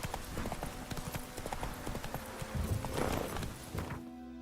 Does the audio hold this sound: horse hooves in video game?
yes